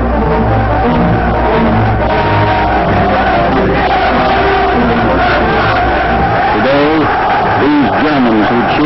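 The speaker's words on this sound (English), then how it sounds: "Germans jammed Nuremberg to cheer the Nazi party and sing hymns of hate." A massed crowd at the 1940s Nazi party rally in Nuremberg roars and shouts in unison, a loud, sustained wall of voices with rising and falling chant-like surges.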